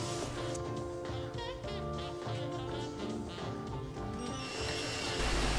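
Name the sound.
drilling 5 mm pilot holes in wood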